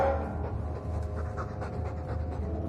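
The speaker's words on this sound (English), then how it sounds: "I'm sick of what's-his-name staring and panting." A Mabari war dog in the fantasy game Dragon Age 2 pants rapidly and steadily, with close, rhythmic breathy huffs continuing throughout and no talk over them.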